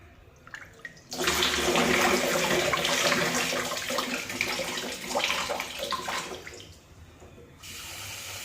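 Rushing, splashing water as rice is washed, running steadily for several seconds, close and fairly loud, then stopping abruptly near the end.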